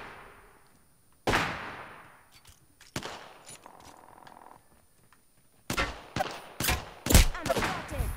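Gunfire in the battle royale shooter Apex Legends, sharp loud single shots and short bursts spread apart with quieter gaps between, then a cluster of rapid shots near the end.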